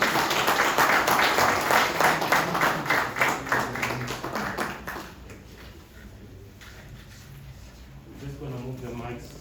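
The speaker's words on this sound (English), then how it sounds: "help me to bring him up with a round of applause" Audience applause welcoming the chairman of a football club at a press event, a dense burst of clapping for about five seconds that fades to scattered claps and room noise.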